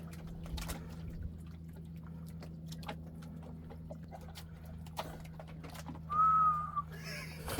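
During octopus fishing outdoors, a person gives one short, clear, high whistle near the end, set against a quiet background with faint water sounds and scattered small clicks.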